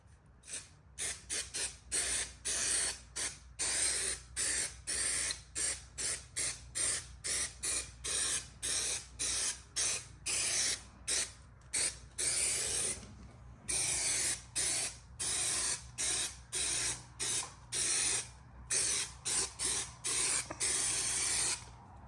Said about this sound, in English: So let's apply a little bit of this adhesive, get this headliner in here